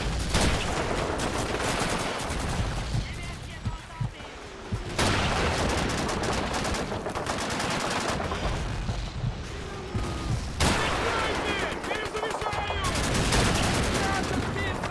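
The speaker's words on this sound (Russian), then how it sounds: "Да точно, там у них лежачий пулемет." A prone-mounted machine gun fires in Call of Duty 2, with long rattling bursts of rapid gunfire and heavier booms across a battlefield, interrupted by brief gaps, with faint voices underneath.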